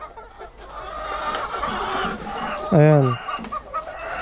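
Farm chickens in a coop cluck softly around a person speaking, with one louder, closer squawking call near the end.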